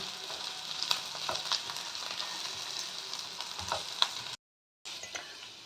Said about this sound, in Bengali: তো আমি আলু আর পেঁয়াজ একটু করে ভেজে নিচ্ছি।